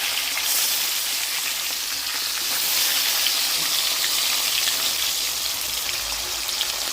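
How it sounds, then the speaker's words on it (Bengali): Fish fries in hot oil in a kadai, giving off a dense, steady crackling sizzle that stays fairly loud and even from start to finish, with no voices. "এবার মাছগুলো ভেজে নেব, কারণ তেলটা গরম হয়ে যাচ্ছে।"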